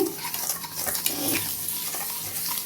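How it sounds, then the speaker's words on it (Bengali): A pudding mixture with sugar being whisked in a bowl, giving busy, uneven scraping and clicking strokes that stay close and fairly loud throughout, with no voices. "এটা এর সাথে আমি আরও একটু ভালো করে ফেটিয়ে নিচ্ছি"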